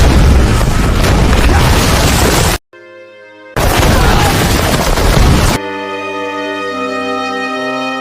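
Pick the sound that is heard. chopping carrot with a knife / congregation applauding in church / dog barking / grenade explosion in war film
grenade explosion in war film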